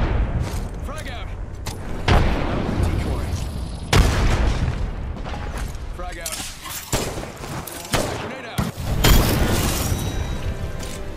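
Frag grenade blasts and heavy gunfire in an Apex Legends firefight, with loud booms and rapid shot bursts layered densely throughout, sharp impacts near 2, 4 and 9 seconds, and a player talking over the action.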